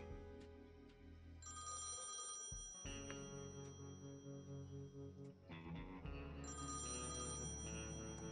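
An out-of-order payphone rings in the adventure game Thimbleweed Park, a quiet bell-like ringtone repeating in bursts with electronic, distorted tones and no talking.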